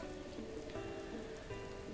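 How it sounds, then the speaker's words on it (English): Rain falling in the video game Zelda Breath of the Wild, a soft, steady patter of drops on surfaces, quiet and even across the short stretch with no talking. "Since it's raining here anyway"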